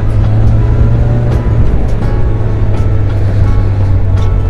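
An older Yamaha XJ600 motorcycle is ridden around the block, its engine giving a steady, loud drone with a strong low hum and rushing wind noise, close and continuous throughout.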